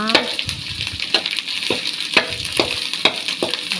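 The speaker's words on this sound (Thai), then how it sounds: "ผัดพริกแกงก่อน" Homemade curry paste for a stir-fried beef dish sizzling in a hot pan, with a continuous fry hiss broken by repeated rhythmic scrapes and knocks of stirring, close and fairly loud.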